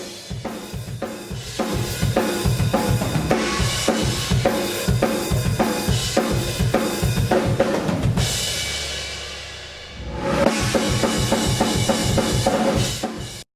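A real drum kit plays a steady groove captured with a five-mic room setup of paired U87s, paired 414s and a mono room mic: punchy kick and snare hits with ringing cymbals and room ambience, briefly pausing before resuming.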